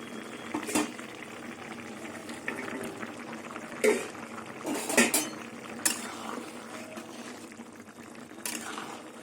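Fried fish pieces go into a pot of simmering taro stolons, with metal spoon clinks and scrapes against the pot and soft bubbling beneath, a few sharper knocks standing out over several seconds.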